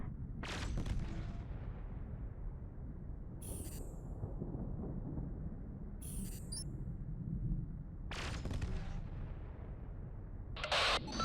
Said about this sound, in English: Now let's try laser weapons. Alright. Lasers, spacebar.